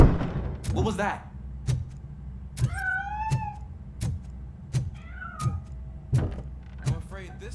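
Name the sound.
cat meowing in video game RoboCop: Rogue City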